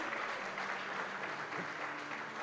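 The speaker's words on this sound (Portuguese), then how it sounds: "Você pode aplaudir?" Congregation applauding in a church service during a pastors' consecration, a steady, dense wash of clapping that sounds fairly distant and even, with faint background murmur.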